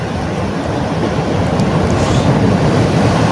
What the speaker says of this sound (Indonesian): ini sudah ombak